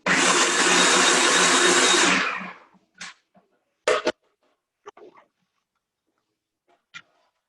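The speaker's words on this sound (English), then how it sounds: "Blender up." A blender whirs loudly for about two seconds while ratatouille is being made, then winds down and stops, followed by a few short, sharp knocks and clatters in the quiet after.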